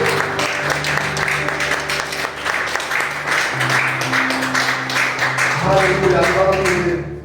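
Church congregation applauding and cheering the Lord: dense, steady clapping from a crowd throughout, with sustained tones underneath and voices mixed in.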